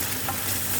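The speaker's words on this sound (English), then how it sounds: "So I've added my garlic and I'm going to stir that up." Garlic frying in oil for Indonesian nasi goreng gives a short, dense sizzle with a faint stirring scrape, close and even, with no talk.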